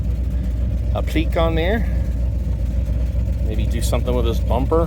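A 1986 square body K10 truck idles steadily close by, a low continuous engine rumble running under someone talking throughout.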